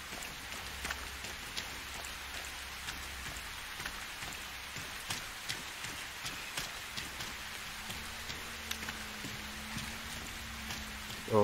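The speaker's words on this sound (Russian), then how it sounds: "Не, дождик в тему тут." Rain falls in the video game True Stalker as a steady, soft patter with scattered distinct drops over a low background hum, fairly quiet and uninterrupted.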